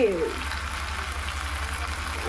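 Food sizzles steadily as it is sautéed in a pan in a home kitchen, a close, continuous frying hiss with a brief voice at the start and end.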